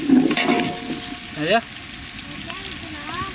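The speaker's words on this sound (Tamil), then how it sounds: "வெங்காயம் பச்சை மிளகா போட்டு கொஞ்சம் வதங்கினானே" Onions and green chillies sauté in a pan in a village kitchen for vegetable pulao, a sizzle with stirring scrapes heard briefly while someone speaks over it.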